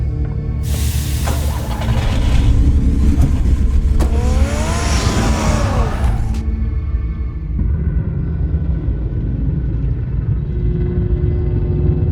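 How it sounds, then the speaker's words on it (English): A car engine revs in Batman: The Telltale Series, a loud rumbling roar swelling and holding for several seconds, then settling into a lower idle rumble with some background noise. "Get the car ready, Alfred."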